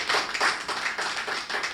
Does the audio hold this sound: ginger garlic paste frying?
no